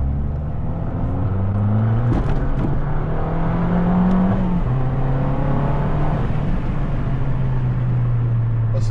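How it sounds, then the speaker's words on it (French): An Abarth car accelerating hard, its engine note climbing in pitch through the revs, dropping at a gear change, then rising again, heard loud and close from inside over a constant road roar. "Bon, les premières accélérations."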